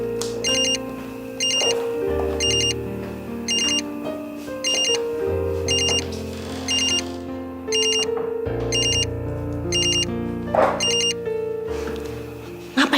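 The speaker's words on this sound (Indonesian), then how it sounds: "Itu telepon dari siapa?" A phone rings with an incoming call, its electronic ringtone repeating in regular bursts throughout, loud and close indoors, with a low musical background underneath.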